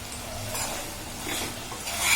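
Vegetables for pav bhaji are stir-fried in a pan over a high gas flame, with a close, continuous sizzle and soft scraping as they are turned.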